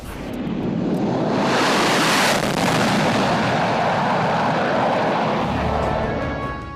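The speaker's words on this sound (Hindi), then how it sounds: "एक C-17 और 2 सुखोई 30 मिलकर बनाएंगे भीम फॉर्मेशन" One C-17 and two Sukhoi-30 jets roar overhead in Bheem formation during the 2023 Republic Day parade flypast, a loud broadband rush that swells, peaks and slowly fades, with no voices.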